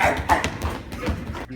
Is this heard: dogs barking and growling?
yes